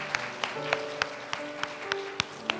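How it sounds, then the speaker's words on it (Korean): A church congregation claps in slow, even rhythm, about one sharp clap every third of a second, moderately faint over soft sustained musical tones. "우리 주님께 영광 박수 올려드릴까요?"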